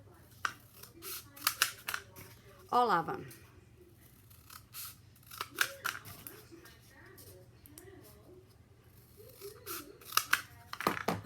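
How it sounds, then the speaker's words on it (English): Scissors cut paper for a nutcracker craft in several short, crisp snips spread through the passage, with a person talking between and over the cuts. "So I'm going to cut this again like that, half"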